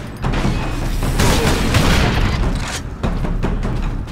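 Heavy gunfire and explosions in the Warhammer 40,000: Space Marine video game, dense bursts of shots and booms filling the scene, with a short break before more firing.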